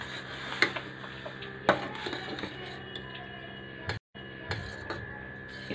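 Masala chai sweetened with jaggery being stirred in a pot, with soft wooden scraping and scattered clinks and taps against the metal, steady low simmering underneath and a brief drop to silence near the end.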